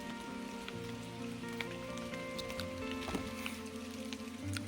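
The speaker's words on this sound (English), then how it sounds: "It started to rain again. I don't know if you can hear it" Steady rain patters on a tent during a January backpacking trip, a continuous close hiss of drops with a low hum beneath and no talk.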